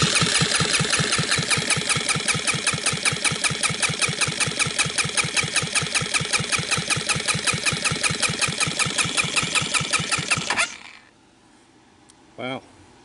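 A Linhai Talon 4x4 ATV engine on a bench, carburetor removed and a gauge fitted for a compression test, cranking in a fast steady chugging rhythm for about ten seconds before stopping, then quiet.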